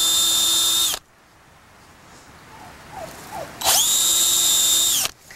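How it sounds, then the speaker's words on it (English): A power drill boring a small hole during strawberry bed prep, two loud steady whirring bursts with a rising start, separated by a quiet pause with faint rustling. "drill a little hole"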